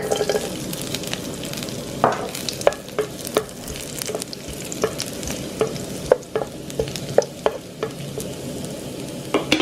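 Garlic frying in sesame oil while being stirred in a pan, a steady low sizzle with frequent light scraping and clinking strokes from the utensil, heard alone at moderate volume.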